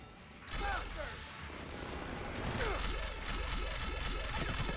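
Sustained gunfire in a Mass Effect Legendary Edition battle, a dense loud clatter of shots and impacts that builds and keeps rolling over several seconds, with whooshing projectile sweeps layered through the fight.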